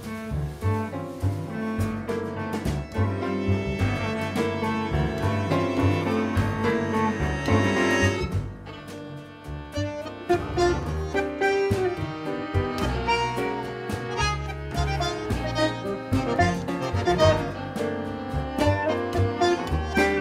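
A tango septet with bass and violin playing songs, a dense, continuous instrumental performance with rhythmic accents and a brief softer passage partway through.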